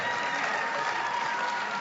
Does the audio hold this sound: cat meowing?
no